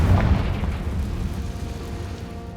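A Confringo fire spell bursting in Hogwarts Legacy: a heavy, low boom at the start that rolls off into a fading rumble and lingering debris noise.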